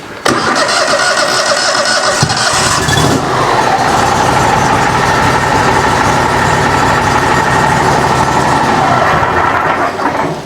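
A repaired sawmill motor on a farm cranks and catches, then runs loud and steady at a constant droning pitch close by for about ten seconds before cutting off.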